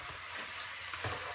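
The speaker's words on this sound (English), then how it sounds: "basically you stir your fish bones with your vegetables all together" Fish bones and vegetables are stirred together in a hot pan while making French fish stock, a soft continuous sizzle with faint scraping, near and low in level.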